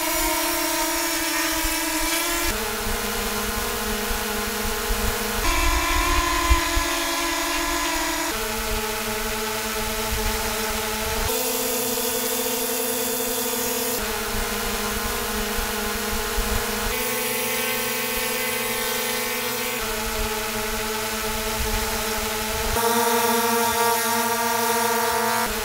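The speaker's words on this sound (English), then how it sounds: "So you do have that softer tone as far as the sound goes up in the air between these two drones." DJI Mini 3 drone propellers whirring steadily in flight, a continuous tonal hum with shifting pitch that holds throughout at a moderate level, no talk.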